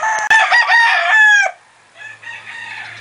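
A gamefowl rooster, a sweater roundhead cross, lets out one loud, close crow lasting about a second and a half, followed by softer short calls and clucks.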